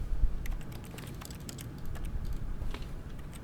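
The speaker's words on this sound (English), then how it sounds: "by simply pushing random buttons on the keypad, Stanley happened to input the correct code" A rapid, irregular run of small button clicks from someone pressing keypad buttons in The Stanley Parable video game, heard over a low rumbling background.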